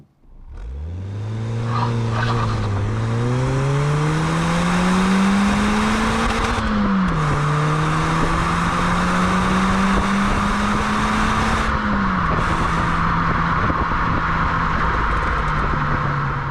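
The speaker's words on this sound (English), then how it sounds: "let's just take it down the road and see what it's capable of" A 1997 Ford Puma's engine revs up and pulls through the gears on the road, loud and continuous with rising pitch, brief dips at each gear change, and steady road noise underneath.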